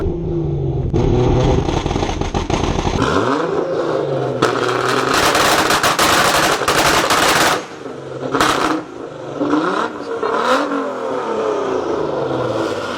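A loud Nissan Fairlady Z engine with an R35 GTR exhaust revs and holds at a two-step launch limiter, crackling with rapid machine-gun-like exhaust pops, then drops away with a few sharp bursts at the end.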